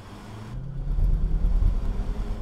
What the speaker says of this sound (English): Oh, a bit too much wheel spin off the line, but we're away